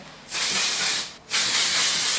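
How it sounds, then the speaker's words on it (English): Two close, loud bursts of aerosol hair texture spray hissing, the second slightly longer, with a brief pause between them. "Then some texture spray."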